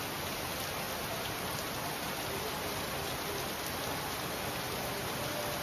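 Heavy rain pours down during a low-pressure system with cloudburst-like intensity, a dense, steady, loud hiss that holds unbroken from start to finish with no voices.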